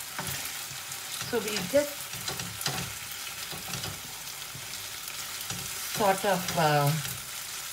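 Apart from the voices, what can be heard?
chicken and potato halves frying for pepper chicken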